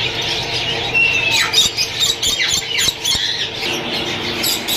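Rainbow lory parrots squawk at a Sunday bird market in Bahawalpur, harsh loud calls and shrill chirps mixed with the busy clatter of the crowded market, with sharp knocks scattered through.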